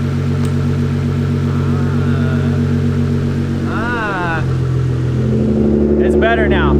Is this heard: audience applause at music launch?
no